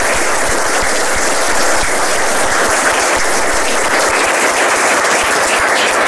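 Dense, steady applause from a large audience at a congress panel discussion on ethics and AI, filling the whole stretch loudly with no voices over it.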